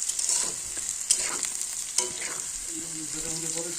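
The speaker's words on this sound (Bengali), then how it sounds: "এখানে বসিয়ে দিলাম ফুলকপি আলু ভাজা।" Cauliflower and potatoes stir-fry in a pan with a steady, bright sizzle, punctuated by a few sharp scrapes and clatters of the spatula, loud and close with no talking.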